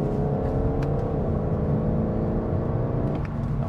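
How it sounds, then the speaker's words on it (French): Volkswagen Golf 8 GTD diesel engine accelerating, a loud steady drone heard from inside the car with rising then shifting pitch as it pulls through a gear. "Je sais pas si vous l'entendez à l'écran, cette fameuse sonorité du V8."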